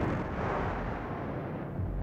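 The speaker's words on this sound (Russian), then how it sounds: "Слышь, бьет. Это горная батарея." Mountain battery artillery fire in a radio play scene of a city under attack: a continuous, heavy low rumble of distant guns that rolls on without pause and stays loud throughout.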